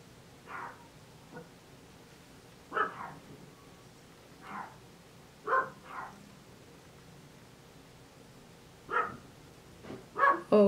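A dog barks in short separated bursts, several single woofs spaced across the stretch, fairly close and moderately loud with quiet gaps between.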